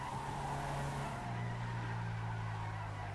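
A truck in a FiveM GTA roleplay game drives with a steady engine drone and a long tire skid that shifts pitch partway through, loud and continuous.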